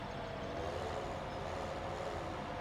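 Tractor reversing with a trailer in Farming Simulator 17 on Giants Island, a steady low engine drone holding even and continuous throughout.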